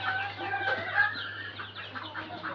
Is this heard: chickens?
yes